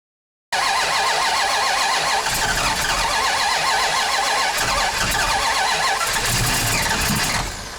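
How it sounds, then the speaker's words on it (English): A 1970 Plymouth Duster with a 408 stroker V8 cranks and fires after a short silence, then runs loud and close with a rough, lopey idle and occasional revs, fading slightly at the end. "we're gonna go get this engine running and go take a test drive in this thing"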